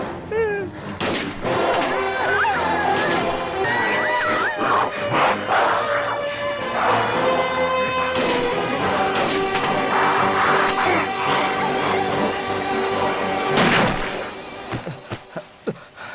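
Gunfire in an action movie scene, with repeated loud shots and bursts crackling over shouting, music and a tense crowd, ending in a final loud blast followed by quieter moments.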